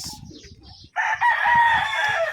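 A brood stag chicken crows loudly and close by in a backyard in one drawn-out call, after a few softer clucks.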